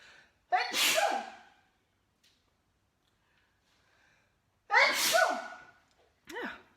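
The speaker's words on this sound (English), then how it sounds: "I feel like I'm going to sneeze." Two loud sneezes, a few seconds apart with quiet between, followed by a short sharp sniff or snort.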